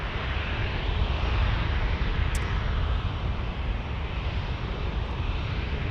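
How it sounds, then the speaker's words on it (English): A Southwest Airlines jet takes off in the distance during night plane spotting in San Diego, a steady broad engine roar that holds at moderate level throughout, with no voices. "we got Southwest Airlines here. Taking off."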